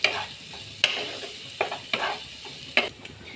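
Close, steady sizzle of finely chopped onion frying in a pan, punctuated by several sharp scraping clicks as a spoon stirs it, with no voices.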